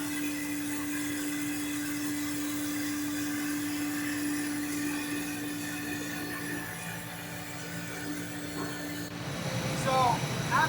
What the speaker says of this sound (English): we're gonna feed that into the extruder with this feeding system here, and then heat it up and extrude it into the deck board